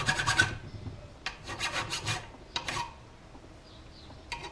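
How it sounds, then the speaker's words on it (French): A hand file rasps against wood in several short bursts of rough scraping strokes, close and clear, separated by brief pauses. "J'y mets ensuite un petit coup de lime."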